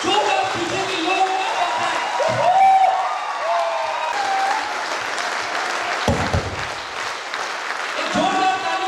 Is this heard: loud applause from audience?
yes